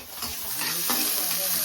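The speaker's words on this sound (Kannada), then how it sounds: "ಅಳ್ಳಾಡ್ಸೋಣ ಫ್ರೈ ಮಾಡಬೇಕು" Onions stirred and fried in a pan for chicken curry, a steady close sizzle with scraping spoon strokes throughout, no talk.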